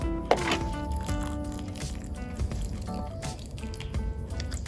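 Water is poured into a potted caladium plant, trickling and dripping steadily as it soaks the soil, with soft squishy gurgles up close.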